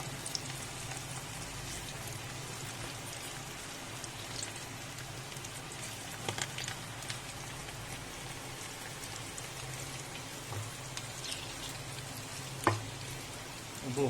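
Gullamalle leaf pakodi batter sizzles steadily in hot oil, a dense, continuous crackling hiss that stays even throughout, with an occasional louder pop near the end and no talking.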